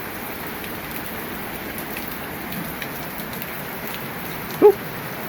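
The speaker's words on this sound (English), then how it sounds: "Nothing like a nice little downpour to water the garden" Steady rain downpour falling on a garden, a dense, even hiss that stays constant throughout, with one brief knock near the end and no talking.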